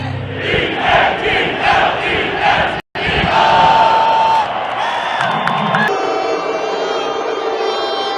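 A large stadium crowd boos Jill Biden during the coin toss at a Philadelphia Eagles game. The dense, loud roar of many voices is sustained, briefly cuts out, then continues more thinly under other sounds.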